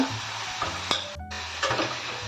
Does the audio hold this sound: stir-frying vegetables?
yes